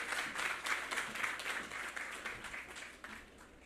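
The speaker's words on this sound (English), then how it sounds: "A round of applause as we welcome him" An audience applauds steadily for several seconds to welcome a Minister of Public Utilities at an outdoor sod-turning ceremony for a solar project. The dense clapping is fairly distant and moderate in volume, with no voices over it.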